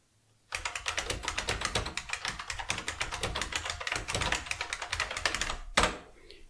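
An IBM WheelWriter 6 daisy wheel typewriter types in a rapid, steady run of sharp, loud clacks from its print wheel, ending with a heavier carriage thunk.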